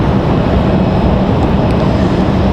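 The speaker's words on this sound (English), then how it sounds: "As that Dreamliner slinks its way around." A Boeing Dreamliner airliner taxis at Raleigh-Durham International Airport, its loud, dense engine roar holding steady and unbroken, with no voices over it.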